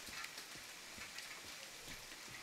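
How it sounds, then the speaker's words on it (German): Steady rain patters across the scene in the survival video game The Forest, a dense, even hiss with faint scattered drops and no voices, holding at a constant low level throughout. "Ach, jetzt regnet es auch noch."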